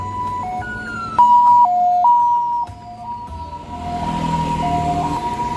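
An ambulance siren wails close by near a hospital emergency room, its two-tone pitch stepping up and down steadily and loudly, then dropping slightly in level as it passes and traffic rumble rises behind it.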